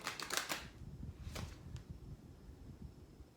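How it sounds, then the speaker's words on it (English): Oracle cards shuffled by hand during a reading, a quick burst of crisp riffling flicks at the start and another brief flutter later, then soft low rustling handling of the deck, fairly close and quiet. "one more shuffle."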